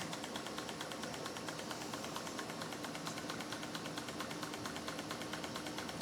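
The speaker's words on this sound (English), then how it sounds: "Steam engine powering it all." A PM Research model steam engine runs steadily, giving a fast, even mechanical chatter with a constant hiss and rattle at moderate level. Nobody speaks over it.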